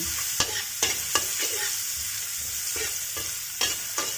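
Onion and garlic frying in oil as the base for fried rice with salted fish, a soft steady sizzle broken by intermittent spatula clicks and scrapes, no talking.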